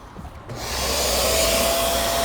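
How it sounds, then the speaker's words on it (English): A pool blower starts up after a brief quiet moment, quickly rising to a loud, steady rushing roar as it forces air through the pool heater, chlorination system and return lines. "I'm going to go ahead and turn on the blower."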